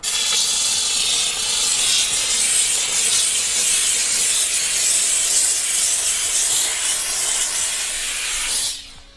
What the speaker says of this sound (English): And then I can steam it.